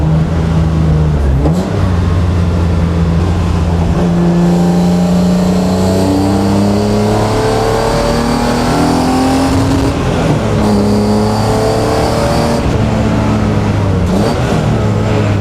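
Garage-built BMW E36 race car on track, engine loud and close as it revs through the gears, pitch climbing and dropping with each shift and sustained high-rpm pulls, no talk over it.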